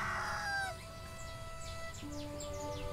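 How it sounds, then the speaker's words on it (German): Rooster crowing in the farming video game Everdream Valley, a single loud crow at the start that fades, followed by quieter clucks and chirps over a soft background of ambient game music. "Ja, unser Hahn ist auch am Start"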